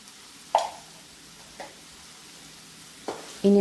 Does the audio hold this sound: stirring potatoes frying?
yes